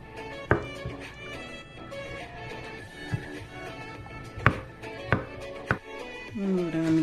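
Knife chopping mellocos (ulluco tubers) on a cutting board, irregular sharp taps spaced apart over a quiet kitchen background, with soft clatter near the end.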